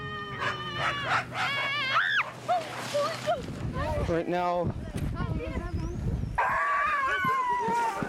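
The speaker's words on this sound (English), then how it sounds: "These girls are running Tim Pavlik's dogs around 6 Mile track." Sled dogs bark, yip and howl in a lively overlapping chorus near a six-mile training track, with a person speaking briefly among the excited calls.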